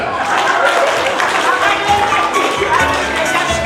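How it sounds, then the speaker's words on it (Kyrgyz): Steady applause from an audience at a Kyrgyz poet-and-singer performance fills the hall, loud and close, with speech carrying over the clapping. "кол чабуулар."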